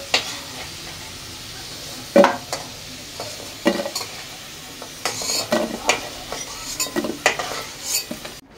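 Turmeric-tinged potato pieces fry in hot oil in a pan, a steady sizzle broken by repeated scraping stirs and metallic clinks of a spatula against the pan, close up with no talking.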